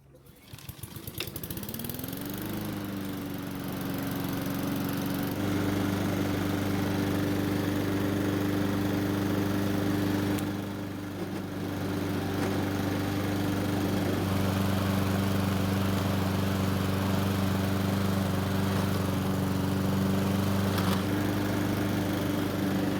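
A Honda lawn mower engine starts up and runs steadily at close range, a constant droning hum that briefly dips midway before settling back to a loud, even idle.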